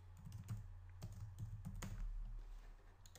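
Rapid keystrokes on a computer keyboard as a name is entered, a quick run of close clicks over a steady low electrical hum, with no talking.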